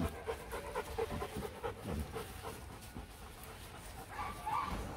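A Rottweiler panting softly in quick, rhythmic breaths, faint and close, with some low background noise.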